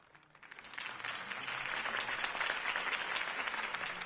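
Crowd applause in a Batman video game, starting quietly and swelling within half a second into sustained dense clapping from many hands at moderate distance.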